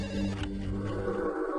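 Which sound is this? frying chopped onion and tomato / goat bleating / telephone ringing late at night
telephone ringing late at night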